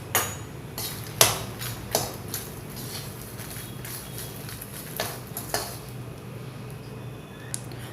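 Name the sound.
frying makhana (fox nuts) in ghee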